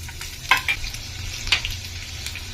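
Ginger and garlic sizzle in hot oil for a Kerala-style eggplant curry, a continuous crackling fry with a few sharper pops and spatters standing out.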